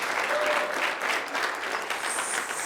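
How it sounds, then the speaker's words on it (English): A high school audience claps for a student signing with the U.S. Army, a brisk, continuous wash of applause from a crowded room lasting under three seconds, with some voices mixed in. "Yes, clap."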